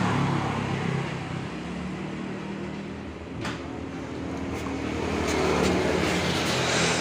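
A Yamaha Vixion motorcycle that stalls when put in gear and throttled runs close by with a steady, loud engine drone that rises slightly toward the end.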